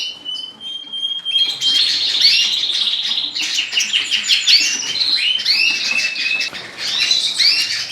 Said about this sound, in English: I have all my hens and my first round young birds.